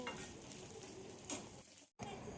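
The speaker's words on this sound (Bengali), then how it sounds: "তারপর তাতে নুন, সামান্য বিট নুন দিয়ে একটু ভেজে নিতে হবে" Shelled peanuts dry-roasting in a pan with salt and black salt, a soft steady sizzle with light stirring scrapes, one brief louder rustle, then a short cut to silence before the sizzle resumes.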